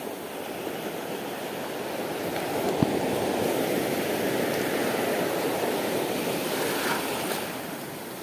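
Large ocean waves at the shoreline, a broad continuous roaring wash that swells slightly in the middle, loud and steady with no voices.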